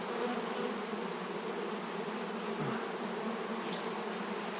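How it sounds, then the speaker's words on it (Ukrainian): Close, continuous buzzing of honey bees around drying honeycomb frames, steady and droning, with a brief louder pass near the end. "Бджола ця не кусається зараз."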